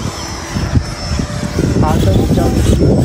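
A Freewing Avanti 80mm electric ducted-fan RC jet on a CNHL 6S 10000mAh pack takes off with a loud, steady roaring whine close by, while people talk over it.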